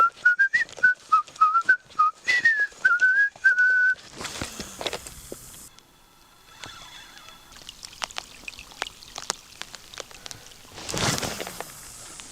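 A person whistles a quick series of short, rising and falling notes outdoors on a rainy night in the wild, meant to scare off bears; the whistling stops midway, leaving rustling, footsteps and bursts of rain-like noise.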